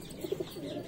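Fantail (lakka) pigeons give a brief run of soft, low, rolling coos, close by and fairly quiet, with no voices over them.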